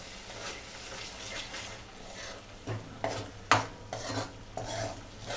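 Crushed tomato gravy stirred into bottle gourd curry in a pan, with soft sizzling under scraping spoon strokes and a sharp clink of the utensil against the pan, close and steady.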